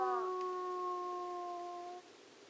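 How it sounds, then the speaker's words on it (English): Two wolves howl together in a field recording, one reaching the higher pitch while the other stalls lower. Their long, steady, tonal howls overlap clearly for about two seconds before fading out. "So I'm going to play this, and there are 2 wolves here."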